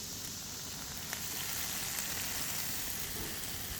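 Ribs sizzle in a Dutch oven with a steady, close, even fry crackle and faint pops, no voices over it.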